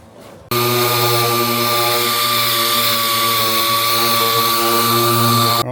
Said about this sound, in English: we'll get an 80 grit orbital sander onto it